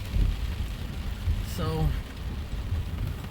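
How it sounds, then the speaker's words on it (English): Steady rain falls outdoors, a continuous hiss on surfaces with a brief sharper swell in the middle, while a voice speaks briefly at the start. "it's a little rainy out here today."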